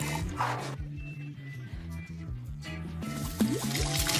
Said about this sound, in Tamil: பானில் எண்ணெய் ஊற்றவும்